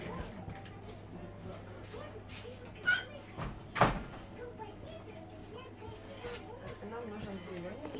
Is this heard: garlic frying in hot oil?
no